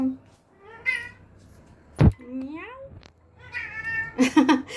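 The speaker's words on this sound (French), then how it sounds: "Désolée pour le chat." A cat meows several times, close and clear, with drawn-out rising and falling cries and a sharp knock partway through.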